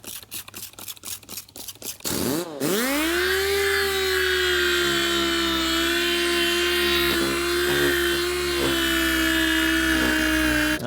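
An electric sander spins up with a steady, high whine as it wet-sands a BMW E39 headlight with 2000-grit paper, running continuously and close after a few seconds of clicking and handling.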